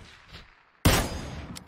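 A single sharp gunshot in PUBG cracks out loud after a quiet stretch, followed by a ringing, echoing tail and faint further noise.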